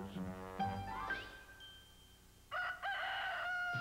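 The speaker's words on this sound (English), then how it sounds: "I'm a crowing chicken. Rooster, that is." An animated rooster in a Kentucky Fried Chicken commercial crows over background music, one stretched cock-a-doodle-doo call followed by another loud crow near the end.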